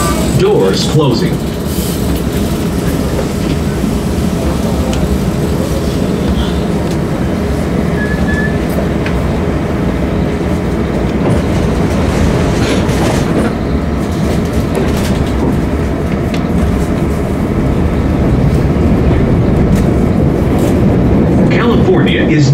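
CTA Blue Line subway train running toward O'Hare in Chicago on Halloween night, a steady loud rumble of wheels and rail noise throughout, with faint clickety-clack and a brief higher squeal.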